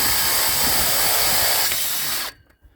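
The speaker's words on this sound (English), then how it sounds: "Right now I'm working on drilling the holes to put the tarp on." A power drill with a 3/8 bit bores a hole for fitting a tarp onto a ShelterLogic shed. It gives a loud, close, continuous whirring whine that cuts off abruptly near the end, leaving a few faint knocks.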